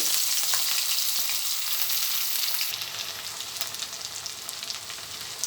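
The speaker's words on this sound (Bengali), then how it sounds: "তেলটা গরম হয়ে গেছে এখন আমি পেঁয়াজ কুচিগুলো দিয়ে দিচ্ছি" Chopped onions dropped into hot oil in a wok for cooking beef tripe, a loud bright sizzle that crackles steadily and eases a little partway through.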